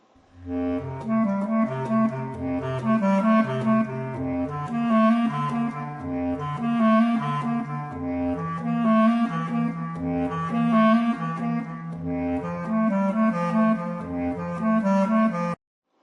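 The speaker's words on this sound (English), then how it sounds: "This is actually called the bass clarinet, and here's an example of what it sounds like." A bass clarinet plays a flowing, continuous melody with deep low notes and shifting harmonies, steady and moderately loud throughout.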